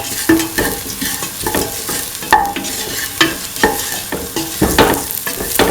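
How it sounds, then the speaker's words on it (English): A spoon stirs salt paste into a tofu, potato and coconut milk stew, loud close scraping and clinking strokes in an irregular rhythm over a soft simmering sizzle. "Put in salt paste. Mix in the salt."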